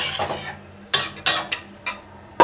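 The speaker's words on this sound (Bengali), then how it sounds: "মশলাটা মিশিয়ে নিই, মশলাটা একটু মিশিয়ে দিই।" Spices being stirred into a cooking dish of prawn mash, a spoon giving five or six short, sharp scrapes against the pan with brief gaps between them, close and clear over a quiet background.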